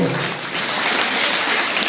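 An audience at a student performance event in N. Suravaram claps for a girl's act, a dense, steady burst of many hands heard close and loud for the whole short stretch.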